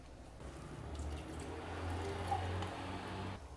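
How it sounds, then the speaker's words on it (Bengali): Water added to a chili chicken sauce in a pan, a soft, close wet pouring and squishing that swells slightly midway, with no voices. "পরিমাণ মতন জল দিয়ে দেব।"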